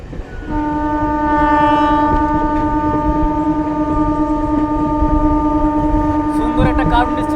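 A train runs along the newly opened Jairambati line in Bankura, its horn sounding one long, loud, sustained blast over the steady rumble of the wagons, with voices faintly underneath.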